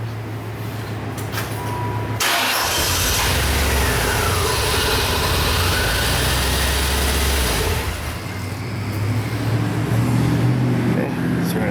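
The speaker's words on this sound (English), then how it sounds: "And I'm going to crank the car over." A Chevy Corvette with a no-start-when-hot fault cranks and its engine catches, a loud steady mechanical rumble near the microphone that swells after a couple of seconds and holds before easing, with a voice in the background.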